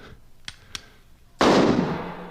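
A rifle shot in a Davy Crockett film at the Alamo: a sudden loud, close blast that rings out and decays slowly over about a second, preceded by two faint distant pops.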